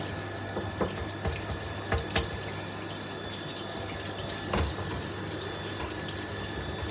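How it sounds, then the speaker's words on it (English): A tap runs steadily into a sink while hands are rinsed under lukewarm water, a faint continuous wash with occasional small splashes and knocks. "So I'm just going to rinse my hands."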